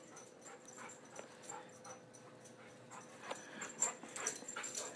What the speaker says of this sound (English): She's such a happy dog.